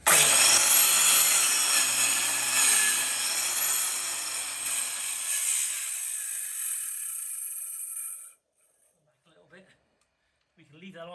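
A Rubi TC125 cutter saws through porcelain overlay with a loud, gritty, continuous grinding that slowly fades and stops after about eight seconds, leaving near silence with faint movement sounds.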